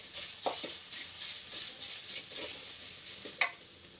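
Coconut sautéed in a pan with urad dal, dry red chillies and curry leaves over a medium flame, giving a steady close sizzle with a few soft stirring scrapes and one sharper knock near the end.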